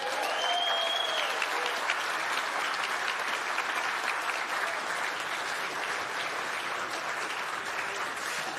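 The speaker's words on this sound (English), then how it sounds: "A round of applause for Inevo." An audience at an innovation awards ceremony applauds a winner. The clapping is dense and sustained, holding steady at moderate loudness throughout, with a brief electronic tone near the start.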